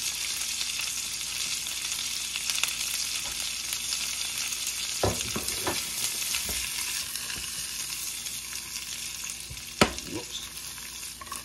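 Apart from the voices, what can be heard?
fiddlehead ferns frying in a small non-stick pan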